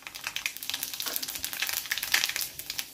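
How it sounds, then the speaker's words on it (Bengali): Whole five-spice seeds (panch phoron) crackle and sizzle in hot oil, with a steady spitting hiss and quick popping bursts, close and fairly quiet with no talking. "এবার দেব 5 ফোড়ন"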